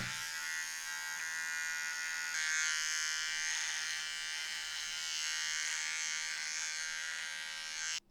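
An electric beard trimmer buzzes steadily and close up while cutting stray hairs on a long beard, a continuous high whine with slight changes in pitch before it switches off at the end.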